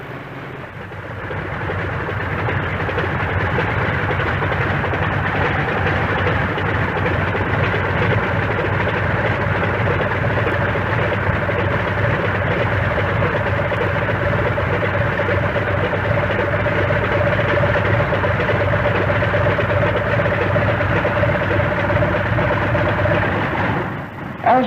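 A Grumman F6F Hellcat's radial engine runs at low revs while the fighter taxis on an airfield, a steady droning rumble with a constant low hum that holds nearly unchanged throughout.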